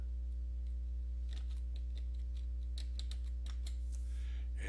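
Several soft, scattered keyboard clicks on a computer keyboard over a steady low electrical hum, with no talking.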